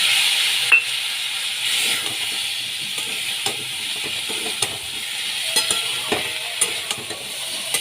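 Spice paste with cumin and coriander powder fries in a pan as a steady, moderate sizzle, with occasional light utensil taps and scrapes over it.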